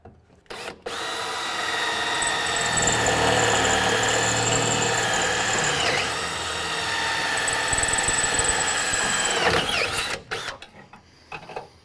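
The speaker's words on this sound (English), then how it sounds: "we're going to have to go back in there with an even bigger drill bit to make that hole big enough to pop that spot weld off" Power drill boring out spot welds in a Ford Mustang frame rail, a loud steady whine with grinding metal tones running almost continuously for about ten seconds, with brief pauses near the start and end.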